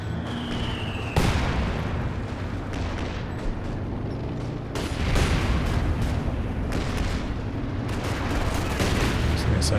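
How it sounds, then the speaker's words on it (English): Artillery shells slam down in a 2v2 match of the strategy game Company of Heroes 2, with heavy booming blasts arriving at a few points amid constant battle noise while a commentator talks over the action. "So that's artillery from the Major."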